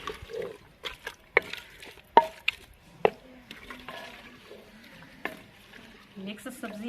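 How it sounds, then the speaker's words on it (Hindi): Mixed vegetables and potatoes frying in a pan for a village-style mix sabzi, soft sizzling under intermittent sharp stirring clacks against the pan, with occasional quiet murmurs of voice. "यहाँ पे इसको हमने 20 मिनट के लिए अच्छे से भून लेना है।"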